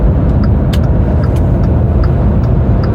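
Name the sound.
car driving on a highway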